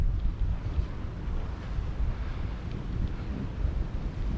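Wind gusting at a lakeside campground on an exposed point by the water, a steady low rumble buffeting the microphone with slow swells in strength and no voices.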